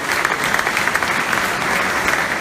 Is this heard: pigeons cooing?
no